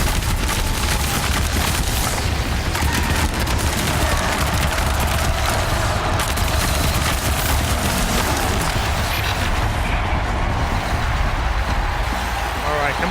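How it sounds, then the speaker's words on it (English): Gunfire aimed at a large machine creature in the video game Horizon Zero Dawn, a dense, loud run of rapid shots and booming impacts layered over rumbling engine-like noise, continuous for the whole stretch. "I'll better shoot it then"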